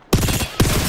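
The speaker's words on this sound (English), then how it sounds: "I'm getting shot at." Rapid automatic gunfire in the battle royale shooter Apex Legends, two loud close bursts of quick rattling shots separated by a brief gap.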